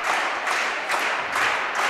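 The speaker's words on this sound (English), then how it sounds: "Everyone like is clapping" Crowd applause fills a high school volleyball gym as the serve is readied, steady clapping swelling in rhythmic waves from many spectators throughout.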